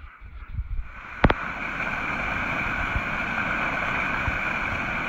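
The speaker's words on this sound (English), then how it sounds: "That river, or little spring, or snow runoff, is the trail." A snowmelt runoff stream flows along a mountain trail in the Sierra Nevada's John Muir Wilderness near Duck Lake. It makes a steady, close broadband rush of water, broken by a sharp click just after the first second.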